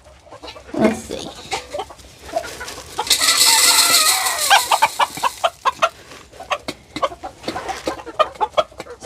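Chickens in a coop, including a Polish chicken, clucking in quick bursts close by, with a long drawn-out crow or squawk in the middle and continuing rhythmic clucks afterward.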